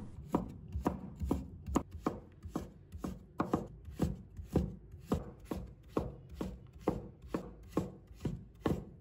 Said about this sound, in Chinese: 然后切成丝